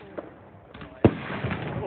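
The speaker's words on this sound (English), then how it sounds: "People are still going to be lighting off fireworks tomorrow." Fireworks go off outdoors in a few sharp pops and one louder bang, with crackling afterward and muffled background noise between bursts.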